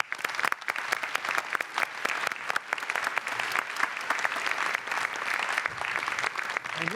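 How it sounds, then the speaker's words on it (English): An audience at a House of Delegates meeting gives sustained applause, dense and even clapping from a large crowd, heard at some distance. "Please join me in giving them a round of applause."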